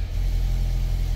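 A Volvo S60 R-Design engine running close by, giving a steady low, rumbling idle for a brief moment with no talking.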